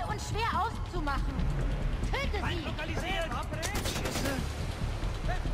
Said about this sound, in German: Wir gehen jetzt ans Geschütz.